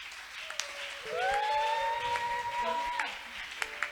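A church congregation applauding during a French-language praise and worship service, steady clapping throughout with a sustained tonal instrument or singing drone on top and a voice speaking.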